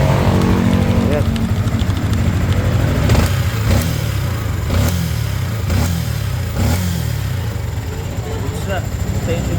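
A Yamaha Sniper 155R motorcycle engine runs with a loud knocking fault, a continuous rough mechanical rattle with repeated sharp ticks, close and loud, with voices talking over it.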